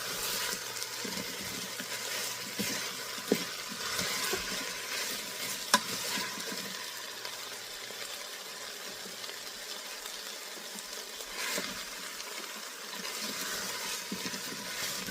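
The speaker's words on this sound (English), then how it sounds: "Onions are continuing to caramelize in there." Onions caramelize in a hot pot, sizzling and crackling steadily with occasional stirring scrapes, soft and continuous at close range.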